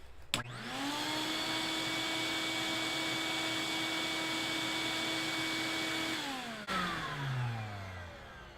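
A wet/dry shop vacuum motor starts up, then runs with a steady, loud whine for about six seconds before switching off and winding down. No one speaks.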